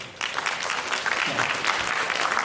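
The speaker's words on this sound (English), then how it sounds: "Please give him a round of applause." An audience at an international academic conference gives a round of applause for a speaker on sports for the disabled, a dense, steady wash of clapping that holds evenly through the whole stretch.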